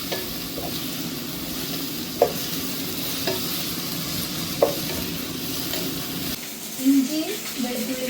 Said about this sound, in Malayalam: ഇനി നമുക്ക് നല്ലപോലെ ഒന്ന് വഴറ്റിയെടുക്കാം